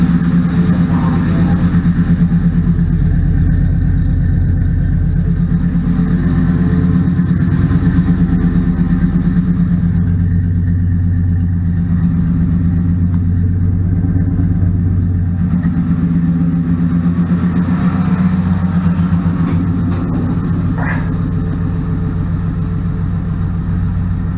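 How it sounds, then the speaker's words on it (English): A 1958 Ford F100 pickup truck engine runs steadily at a loud, rough idle for the whole stretch, close by and unbroken, with no talk over it. "Keep it running. Oh, it's running good."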